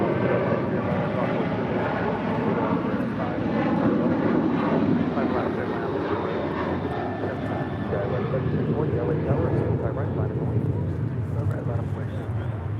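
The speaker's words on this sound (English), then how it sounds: "This is United Airlines 644 departing to Houston Intercontinental on a 737-900 ER." A United Airlines Boeing 737-900ER departs Los Angeles International Airport for Houston, its engine roar rising and swelling over several seconds, with radio chatter and voices heard intermittently alongside.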